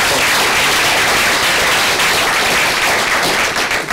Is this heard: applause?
yes